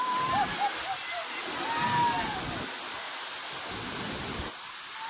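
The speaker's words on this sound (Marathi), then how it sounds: "धबधबो पण लय मोठो हा" The Vyaghreshwar waterfall at Manche roars as a steady, broad wash of falling water, with a voice speaking briefly over it near the start.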